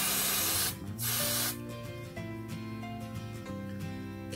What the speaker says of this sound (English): I'm going to part again where the other grays are and spray again